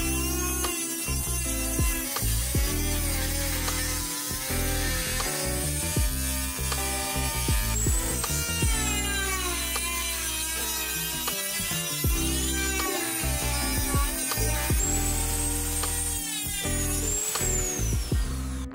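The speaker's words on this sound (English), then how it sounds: "use the cutting machine to destroy the outer plastic case" A cutting machine slicing through the outer plastic case of a BYD portable AC EV charger, giving a loud, continuous grinding whine with shifting pitch and rattling tool sounds, close and without talk.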